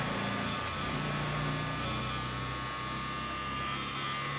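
A faulty Apple Green 20000W grid-tie inverter gives off a constant electrical buzzing hum from inside its casing. The tone stays steady and fairly loud, with no talking over it.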